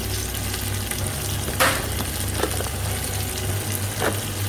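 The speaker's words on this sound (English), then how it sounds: "And give it a stir." A pan of cooked Indian chicken curry sauce with kevra and saffron is stirred, giving a loud continuous sizzle with a few scraping strokes close by.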